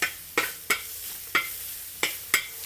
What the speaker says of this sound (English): just a little bit more oil because we want to fry the garlic